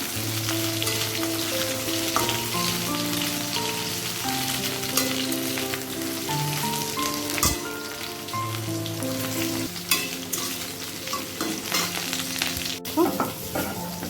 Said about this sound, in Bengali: এদিকে দেখো শনিবার রসের আলুটা ফ্রাই হচ্ছে